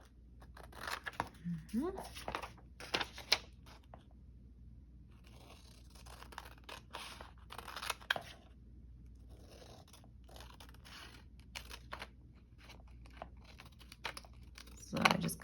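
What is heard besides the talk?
cutting paper pieces for a writing pad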